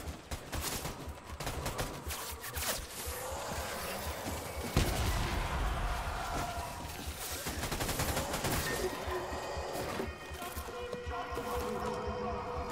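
Sustained gunfire in the video game Death Stranding, rapid rattling automatic bursts and scattered shots from hidden shooters in trees, continuous and fairly loud throughout.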